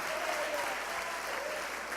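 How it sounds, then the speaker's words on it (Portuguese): Church congregation applauding for Jesus during a sermon, a steady wash of clapping that fills the whole moment at moderate, even loudness with no gaps. "Pode aplaudir Jesus"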